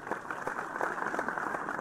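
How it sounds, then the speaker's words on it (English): Clapping in the horror video game Don't Breathe: The Crooked Man, a faint, dense patter of many hands that keeps going without a break for under two seconds. "Why are we clapping about that?"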